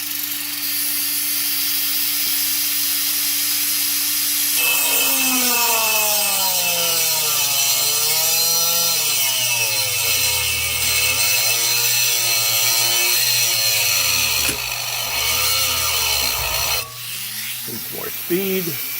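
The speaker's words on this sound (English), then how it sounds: "Got the Dremel set up, got the copper in the vise," A handheld Dremel rotary tool cuts a copper gasket sheet held in a vise, beginning with a steady high whine. After a few seconds it gives way to a loud, wavering grinding screech with changing pitch that continues for most of the clip and ends abruptly.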